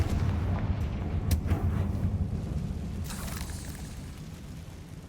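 A Confringo fire spell blast in a video game thumps out as a low rumbling boom, with sharp crackling bursts near 1.3 and 3 seconds over a steady, dense low roar that slowly fades.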